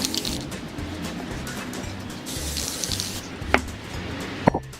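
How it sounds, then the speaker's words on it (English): Steady hissing spray from an aerosol can of gold paint coating a carved pumpkin runs almost continuously, with a couple of sharp clicks near the end. "we're gonna spray paint this sucker"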